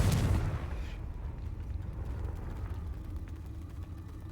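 A Confringo spell explosion in the video game Hogwarts Legacy, one loud blast up front that fades into a long low rumble and hiss.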